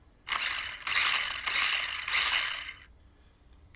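The motor of a WLtoys 184016 RC car whirs in four quick bursts as the throttle is tested, each lasting about half a second, with brief pauses between them before it falls quiet.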